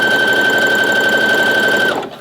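A sewing machine stitching elastic onto a swimsuit runs at a steady, loud, fast hum with a constant whine for about two seconds, then winds down and stops.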